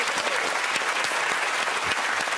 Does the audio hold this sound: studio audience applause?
yes